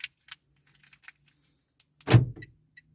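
Key turning in the door lock of a Toyota Wigo hatchback: faint clicks and a soft jangle of keys, then one sharp, close mechanical clunk as the lock engages, with a brief rattle after it.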